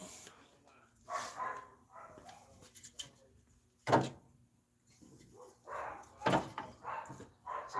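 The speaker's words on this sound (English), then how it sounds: "The dogs are barking." Dogs barking outdoors near a workshop, several separate barks spaced a few seconds apart, moderately loud against a quiet background.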